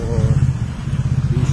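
Motorcycles ride along a road nearby with a loud, pulsing engine drone that holds steady throughout under a voice.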